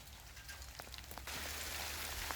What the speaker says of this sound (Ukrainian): зараз на даний момент падає дощик.